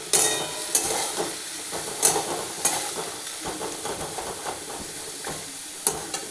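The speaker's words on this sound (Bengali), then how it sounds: "এবারে পেঁয়াজটাকে লালচে করে ভাজবো।" Onion fries in a pan, with a soft sizzle under intermittent stirring scrapes and clinks, close and moderately loud.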